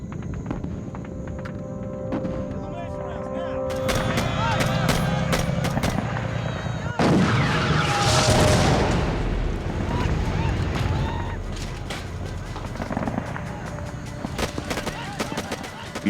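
Heavy cannon and artillery fire with explosions during a wartime battle at the Lang Vei camp in Vietnam: dense, loud booms and rumbling blasts, with a sharp burst of sustained noise midway, continuing throughout.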